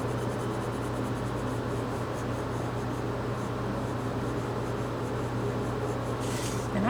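Teal colored pencil scratching and rubbing across paper in continuous close strokes, a soft steady scratchy texture over a low background hum, with no talking.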